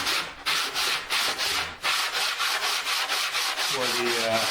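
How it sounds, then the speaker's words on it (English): Hand sanding the wooden center block and perimeter edges of a custom ES-335 guitar body for glue-up: close, loud rhythmic scratchy strokes repeating back and forth, alone without talk. "the center, 4-inch center block and the perimeter edges, I'm just going to sand"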